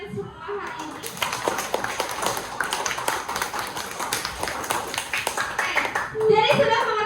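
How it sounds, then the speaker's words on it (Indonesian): Schoolchildren clapping their hands in a classroom lesson, a burst of uneven, rapid claps from a small group close by, with children's voices chattering over and after it. "Tepuk tangan buat kalian semua hari ini."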